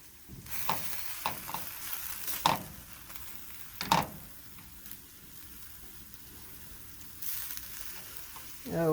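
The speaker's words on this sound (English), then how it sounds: "Now I'll pour in just a smidgen of my soy sauce, maybe about half of it, and stir that around." Soy sauce sizzles as it hits collard greens in a hot pan, a steady frying hiss broken by a few sharp clatters of stirring, close and moderately loud with no talking.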